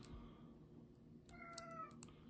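A cat meows once, a short rising and falling call that is faint and a little distant, over a low steady room hum, with no talk.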